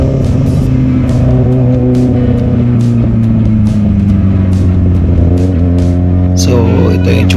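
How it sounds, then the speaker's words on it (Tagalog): A motorcycle engine, after a cylinder head gasket replacement, idles and revs steadily, its exhaust droning loud with a deep, rough hum before a brief higher whine near the end. "tunog ng exhaust parang mas lumakas,"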